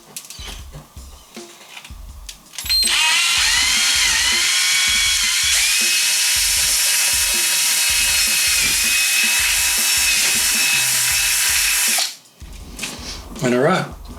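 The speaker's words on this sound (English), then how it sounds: "So it'd be interesting to see how I go drilling through two layers." A power drill whines at high pitch as it bores through two layers of snare drum wrap, running steadily for about nine seconds. Short clicks and handling sounds come before it, and a brief spurt of drilling comes after.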